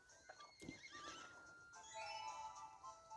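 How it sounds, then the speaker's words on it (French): A horse neighs and whinnies nearby outdoors, a faint, wavering call that stretches across a few seconds with light background noise. "Allez, viens avec nous, mon petit cheval."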